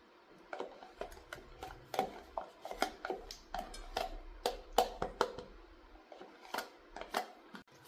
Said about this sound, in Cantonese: 而家就將佢攪勻佢咧，等佢均勻